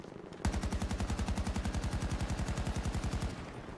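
An AK rifle without attachments fires in Battlefield 2042 as a long, steady full-auto burst of roughly thirty evenly spaced loud shots over about three seconds, then cuts off to a faint ambience.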